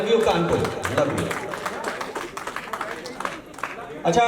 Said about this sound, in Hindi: अच्छा, तालियों से तो कुछ पता चला है मुझे।